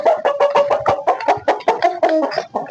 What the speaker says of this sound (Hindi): हाँ 3 सील मुर्गे हैं हमारे पास